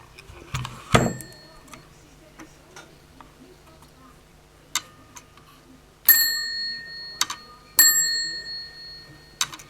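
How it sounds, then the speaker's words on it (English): Bell ringer of a Spanish Citesa ITT Standard telephone, out of adjustment, gives a few sharp metallic rings late on, each ringing briefly, after scattered quiet ticks and clicks. "That coil is the coil of the bell or the ringer."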